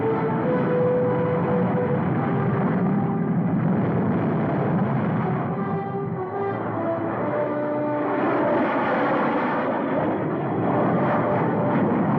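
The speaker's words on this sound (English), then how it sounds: "Unidentified transport planes." Transport plane engines droning overhead in a 1952 Cold War film, a loud sustained propeller rumble with shifting tones that swells again near the end, no talking.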